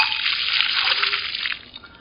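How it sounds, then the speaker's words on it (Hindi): Water is poured at the base of a newly planted Polyalthia longifolia tree and spread by hand, a steady close splashing trickle that fades toward the end. "तो बिल्कुल नीचे ले जाकर आप इस तरह से हाथ लगाकर इसमें वाटरिंग करें।"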